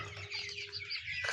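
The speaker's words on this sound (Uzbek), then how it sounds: "Ichkarida jo'jalarimiz bor. 1000 dona jo'jamiz bor." A flock of about a thousand 67-day-old chicks in a poultry house in Yakkabog, Kashkadarya makes a dense, steady chorus of overlapping cheeps and clucks, close by and moderately loud.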